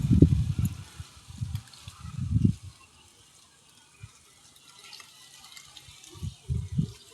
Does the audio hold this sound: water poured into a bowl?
yes